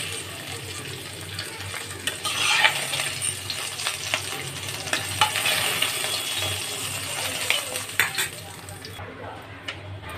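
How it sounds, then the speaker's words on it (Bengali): Hilsa fish heads fry in mustard oil in a pan, a soft continuous sizzle broken by scattered clinks and scrapes of a utensil against the pan, fairly quiet and close. "মাথাগুলো দেখো আমার লাল করে ভাজা হয়ে গেছে।"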